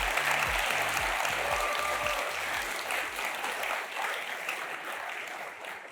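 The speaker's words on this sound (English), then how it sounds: "round of applause for the organizers" Audience at the EuroRust 2024 conference applauding the organizers, a full, sustained burst of clapping from a large crowd that holds steady for several seconds, with faint low thumps underneath.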